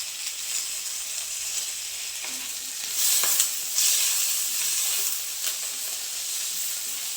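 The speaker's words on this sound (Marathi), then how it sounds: "एक टोमॅटो टाकायचे ते पण छान परतून घ्यायचे त्याच्यानंतर थोडासा कढीपत्ता पण टाकायचा याच्यामध्ये आणि थोडीशी कोथंबीर टाकायची हे सर्व एकत्र भाजून घ्यायचं आपल्याला" Tomato, curry leaves and coriander roast together in a pan with a loud, continuous sizzle that swells briefly midway, joined by a few soft stirring scrapes.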